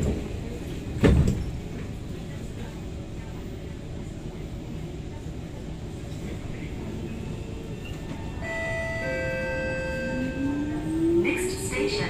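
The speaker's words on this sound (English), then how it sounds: "doors are closing." SMRT C151 train doors closing on a Singapore MRT car between Bukit Batok and Bukit Gombak. Steady cabin rumble with a thump early on, then a run of beeping warning tones and a rising motor whine as the doors slide shut.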